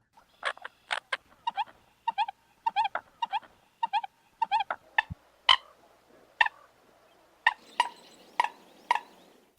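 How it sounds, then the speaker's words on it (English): A series of sharp, honking American coot calls repeats in uneven bursts, some grouped in quick runs, loud and close against a quiet background. "chances are pretty good that it's an American coot"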